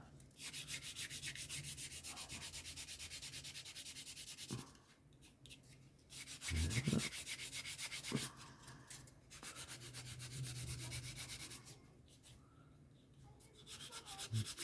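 Sanding a plastic part of a Revell P-51 Mustang model kit by hand, quiet rhythmic back-and-forth rubbing strokes in several bursts with short pauses between, close and soft.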